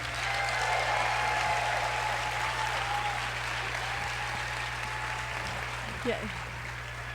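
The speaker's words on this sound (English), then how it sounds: "Please, please make him feel welcome with your clapping." Audience at a Moth Grand Slam storytelling event clapping to welcome a storyteller to the stage, continuous steady applause from a crowd with a faint voice and a low hum underneath.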